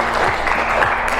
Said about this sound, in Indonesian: kita beri tepuk tangan untuk temannya.